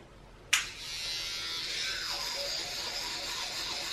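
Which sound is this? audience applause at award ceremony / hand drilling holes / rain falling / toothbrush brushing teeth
toothbrush brushing teeth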